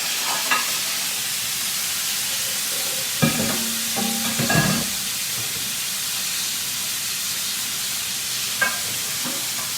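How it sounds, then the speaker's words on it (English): London broil steak searing in a hot pan, a loud steady sizzle and hiss running throughout, close up, with a brief burst of clatter and spatter near the middle and a few later pops, no talking. "See how I got a good sear on that side?"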